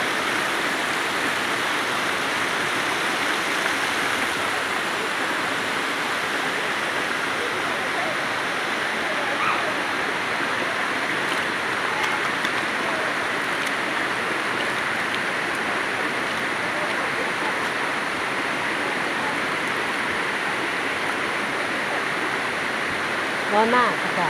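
Erawan waterfall at its seventh tier in Thailand, a steady broadband rush of falling water that holds at an even loudness, with faint voices underneath.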